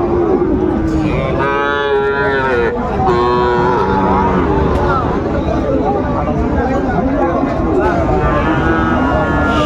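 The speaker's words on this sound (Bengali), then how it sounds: "শাহিওয়াল ষাঁড় বাচ্চা।" A Sahiwal bull calf at a busy cattle market gives long, loud, drawn-out moos close by, with people talking and the crowd murmuring throughout.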